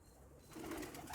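Large flying pigeons, a player breed of domestic pigeon, give a soft low cooing that swells louder in the second half, close by and without talk.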